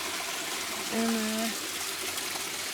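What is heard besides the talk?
small river flowing in Trinidad jungle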